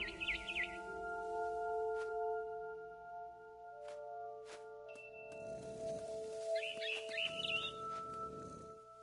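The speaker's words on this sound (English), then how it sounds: "Then I heard chirping outside my window. It was a barn swallow going back to her nest." Chirping from a barn swallow in a video game comes in two short bursts, one at the start and one near the end, over sustained synth tones and soft footstep-like rustles.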